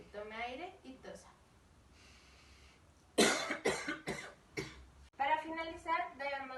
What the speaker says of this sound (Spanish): Finalizamos con una tos del paciente